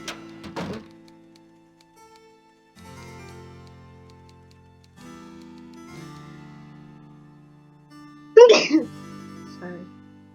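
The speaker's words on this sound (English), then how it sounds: "Try to mute my mic when I have to sneeze, but I couldn't." A single loud, sharp sneeze bursts out near the end over faint, low computer-game background tones, with a soft thump-like noise near the start.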